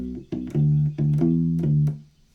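A U-Bass plays a slow blues shuffle pattern, a few deep, rounded plucked notes in a loping long-short rhythm, close and clear, then fading out.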